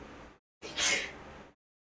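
A single sharp sneeze bursts out after a short silence, loud and close, trailing off over about a second.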